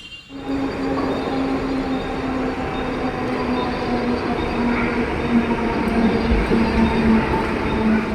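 Continuous rumble of a moving train heard from inside a carriage, steady and loud with a low droning hum and rattling throughout.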